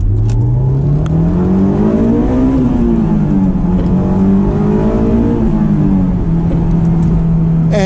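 A Honda S2000 roadster accelerating hard, its engine note climbing steadily through the revs with brief dips at the gear changes. The sound is loud and close throughout, with no talking.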